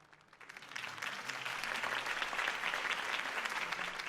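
Applause swells from a quiet start into sustained clapping from a crowd, steady and fairly distant, lasting several seconds.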